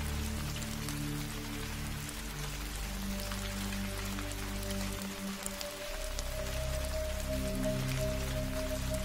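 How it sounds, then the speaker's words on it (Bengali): Light cartoon drizzle of rain falls steadily throughout, a continuous soft patter under sustained low musical tones with no voices. "আকাশ মেঘাচ্ছন্ন হয়ে আছে, গুড়ি গুড়ি বৃষ্টিও পড়ছে।"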